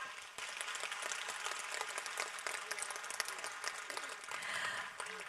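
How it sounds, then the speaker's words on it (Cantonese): An audience at a ceremony for a Cantonese and Kunqu opera performance of the White Snake legend claps densely and steadily, many hands applauding together without a break. "再次掌聲多謝大家"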